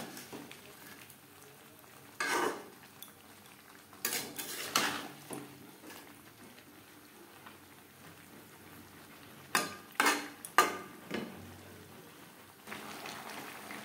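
Potatoes and cauliflower are stirred in a pan with spices, a spoon scraping and clanking against the metal in scattered bursts between quieter stretches of faint sizzling.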